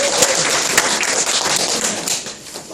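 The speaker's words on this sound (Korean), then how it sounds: "여러분 힘찬 박수로 맞이해 주시기 바랍니다." A lecture audience claps to welcome a history lecturer at a special talk, a steady wash of dense applause with a few sharper claps, tapering off near the end.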